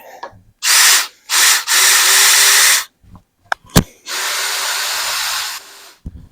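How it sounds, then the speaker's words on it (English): A power drill whirs in several close, loud bursts separated by short pauses, with a few sharp clicks in between, while drilling a pilot hole for a fly tying vise base modification. "I'll drill this pilot hole, put it on there, get it in, and away we go."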